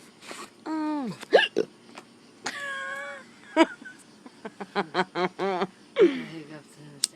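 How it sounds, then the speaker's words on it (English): Hiccups repeat again and again, sharp, close and fairly loud, mixed with a woman's sighs, chuckles and other vocal sounds. "So we're both sitting out here hiccuping."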